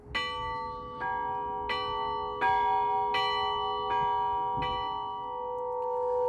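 Orthodox church bells rung with the left-hand technique give about eight clear, evenly spaced strikes, each leaving a long ringing tone that sustains and overlaps with the next, close and resonant.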